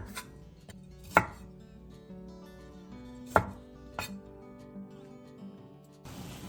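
A few sharp knife chops slicing button mushrooms thin and cutting broccoli into bite-size pieces on a cutting board, spaced irregularly, close and fairly quiet, with no talking.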